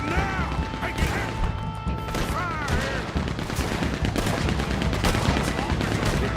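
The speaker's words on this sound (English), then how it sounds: "This cannon gun's destroying everything!" Heavy cannon gun fire in the video game Red Dead Redemption 2, a dense, continuous barrage of loud booming shots and crashes with overlapping blasts and some voices underneath.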